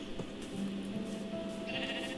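A Minecraft sheep gives a soft bleat over low game ambience, with a brighter cry rising near the end; no voices over it.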